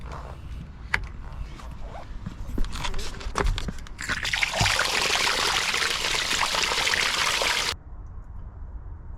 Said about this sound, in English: then draining the jacuzzi